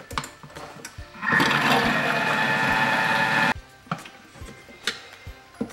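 A Thermomix TM5 mixes frangipane at speed 4, a loud steady motor whir with churning batter lasting about two seconds, framed by quieter kitchen clicks and ticks before and after.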